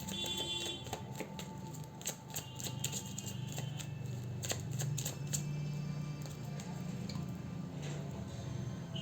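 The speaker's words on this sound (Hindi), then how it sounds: "देख लेती हूँ मैं यहाँ पर 3 कार्ड्स और लूँगी" Tarot cards being drawn and shuffled during a reading, with quick papery flicks and taps in irregular bursts close to the microphone, alone without talk.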